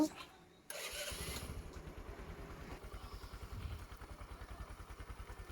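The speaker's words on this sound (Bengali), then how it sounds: "তো আমাদের বাইক কমপ্লিট, এখন আমরা স্টার্ট করব।" A Bajaj Discover 100 motorcycle engine cranks and catches at about one second, then settles into a steady, close, rhythmic idle putter that continues to the end.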